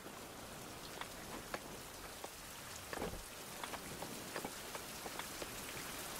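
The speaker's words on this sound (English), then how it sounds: "Talking of rain." Rain falls in the survival video game Survival: Fountain Of Youth, a soft, continuous patter with scattered sharper drops landing on surfaces throughout, faint and unbroken by speech.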